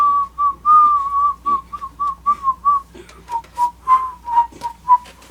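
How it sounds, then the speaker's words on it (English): A person whistles a theme tune, a clear solo melody of short, evenly phrased notes, loud and close with no other sounds. "If I do a front whistle, I can't do as much with it as a side whistle."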